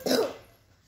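One short, light cough from someone getting over a fever, a single quick burst that fades fast, heard up close and fairly soft.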